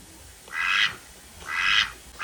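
A duck at a live poultry auction market quacks three times close by, two longer nasal calls followed by a short one, with no voices.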